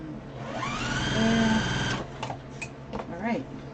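A sewing machine stitches small quilt pieces in a brief, fast whirring run that rises and stops, followed by light clicks and handling while a person talks.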